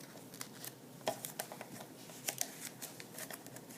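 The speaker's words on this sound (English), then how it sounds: "with the two open sides, you're going to fold these in" Paper being creased and folded into an origami monkey: a quiet string of soft crinkles and sharp little snaps, close and faint, with no talk.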